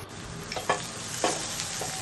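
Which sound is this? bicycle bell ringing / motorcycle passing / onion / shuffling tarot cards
onion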